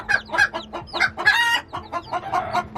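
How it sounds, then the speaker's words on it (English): Hens cluck and squawk loudly and repeatedly in a coop, a busy overlapping chorus of sharp calls up close, with one longer drawn-out cry standing out in the middle. "all these chickens that love to be mamas in here are hooting and hollering"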